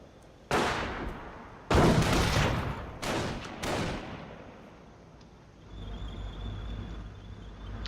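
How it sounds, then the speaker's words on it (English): Bursts of machine gun and heavy weapons fire in the World War II strategy game Company of Heroes, three or four loud volleys in the first half, then quieter ambient battle rumble with a faint high whine. "Machine gun being set up again."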